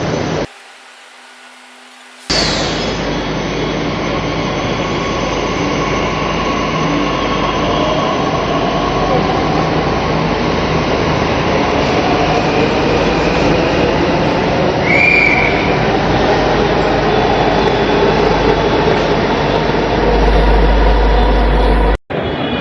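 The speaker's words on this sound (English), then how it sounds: "this is Guru Dronacharya metro station." A Delhi Metro train at Guru Dronacharya station rumbles and hums loudly and continuously after a brief quiet start, with a sustained roar that cuts off abruptly at the end.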